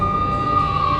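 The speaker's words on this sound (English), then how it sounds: "I could hear the sirens. Their wail was a crescendo." Police sirens from the mobile video game Max Payne Mobile wail in a steady, rising tone over a low rumbling backdrop, loud and continuous.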